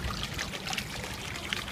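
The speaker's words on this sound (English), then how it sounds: "There's water that runs down." Water running down an outdoor fountain sculpture of dragons, a steady, close splashing trickle with small irregular spatters over continuous flow.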